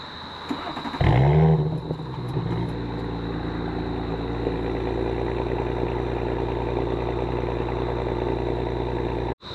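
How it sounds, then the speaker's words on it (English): A 2020s Audi S4 B9.5 with a 3.0-litre turbocharged V6 and sports exhaust fires up from warm, a sharp loud flare of revs settling quickly into a steady, deep idle drone that holds until the end. "I'm gonna try to give you guys a startup."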